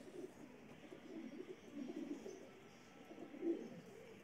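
A pigeon coos softly nearby, a low warbling murmur rising and falling in a few quiet swells, faint overall with no voices.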